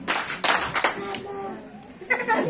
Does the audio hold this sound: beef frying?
no